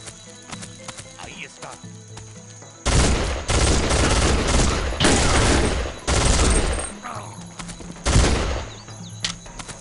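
Bursts of machine-gun fire in the video game Soldier of Fortune 2, several loud short volleys of rapid shots in quick succession against a quieter game background.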